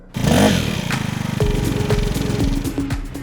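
A Peugeot Speedfight 50cc scooter engine buzzes close by, rising with a quick rev and then holding a busy, clattery two-stroke drone for a few seconds.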